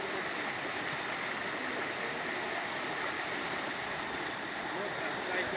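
Floodwater in Khushab, Punjab, Pakistan rushes past in a steady, loud broadband roar with no breaks, sounding like a strong stream or torrent close by, with faint voices mixed in.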